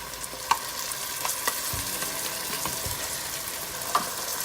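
Onion, ginger garlic paste and chopped tomatoes fry in a pan for an aloo mutter curry, a steady close sizzle broken by scattered stirring scrapes and small spatters.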